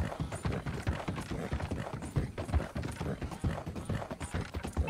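Horse hooves clip-clopping steadily while riding in the video game Red Dead Redemption 2, a brisk continuous rhythm of muffled hoofbeats close up, with no talking.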